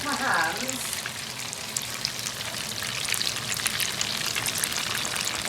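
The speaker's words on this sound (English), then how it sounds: "They don't take long. I mean, they're not being deep fried, but they're not being shallow fried." Vegan fish cakes fry in about an inch of oil in a pan, giving a steady close crackling sizzle with fine popping that runs the whole time, with a brief voice at the start.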